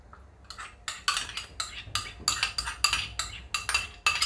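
Whisked yogurt stirred into cooked spinach in a pan for palak paneer, giving a steady series of scraping, clinking spoon strokes against the metal pan at a regular rhythm, close and moderately loud with no talk.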